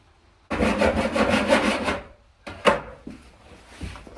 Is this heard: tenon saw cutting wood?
yes